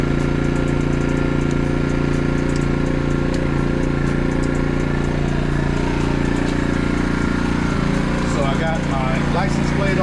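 An AIVOLT 4300W gas powered portable inverter generator runs with a steady, even engine drone, loud and continuous throughout, with a voice speaking over it.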